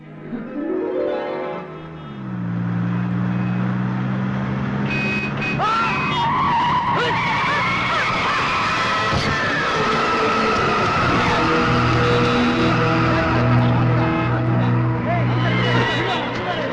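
A car skids hard at a city junction, its tires squealing loudly and sweeping in pitch before a dense noisy stretch, with voices and crowd babble underneath.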